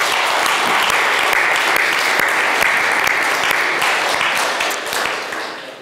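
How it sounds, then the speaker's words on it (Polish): Sustained applause from a church congregation, dense and loud from start to finish, easing off slightly in the final second without any talk over it. "należą się każdej osobie, która tutaj jest, gromkie brawa."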